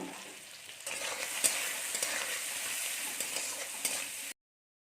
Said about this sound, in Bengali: এবার আমরা পেঁয়াজটাকে একটু হালকা ভাজা দিয়ে নেব